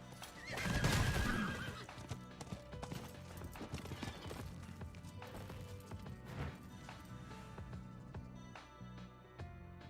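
A horse in the Diablo 4 video game lets out a loud whinny near the start, followed by steady clip-clopping hooves as it gallops on, close and clear with no talking.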